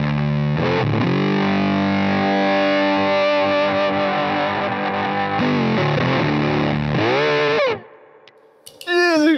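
Electric guitar played through a high-end amp with a fuzz pedal, thick distorted sustained chords ringing loud for about seven seconds, then cutting off into a brief quiet tail and a few fresh picked notes at the end.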